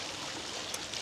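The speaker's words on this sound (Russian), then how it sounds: "И фонтан." Continuous hissing splash of a lit fountain at the Ai-Danil sanatorium grounds near Yalta, Crimea, heard close and steady with a couple of brief brighter droplet spatters.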